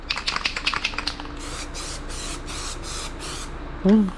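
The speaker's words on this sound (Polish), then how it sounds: "Użyłem może pół puchy tego spraya i w sumie pomalowałem na czarno" A spray paint can hisses black paint onto a KTM motorcycle in a series of short, close bursts with a rhythmic pattern, after rapid tapping clicks; a brief voice sound comes at the end.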